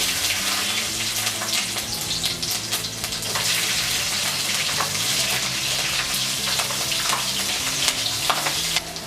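Whole cumin, chopped garlic and chilli pieces sizzle in hot oil left over from frying pakoras, a loud, continuous crackling fry with occasional stirring scrapes, heard close up with no talk.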